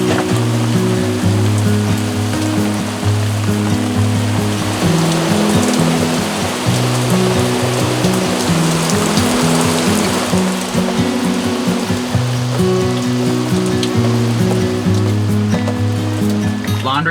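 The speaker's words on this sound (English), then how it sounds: "I love the sound of the rain on the sunshade." Steady rain pattering on a sunshade outdoors, a dense continuous wash of drops held at an even, fairly loud level throughout, with a low tonal hum running underneath and no voices.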